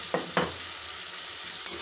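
Spice paste and tomatoes sauté in a pan for a mutton and potato curry: a soft, steady sizzle broken by three brief stirring scrapes.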